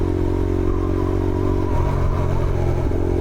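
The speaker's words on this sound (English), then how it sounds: "I love the sound of this fucking exhaust." A motorcycle with an aftermarket exhaust rumbles loudly and close with a deep, throaty exhaust note, holding steady and then shifting pitch as it revs.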